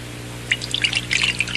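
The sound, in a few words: water poured back into measuring cup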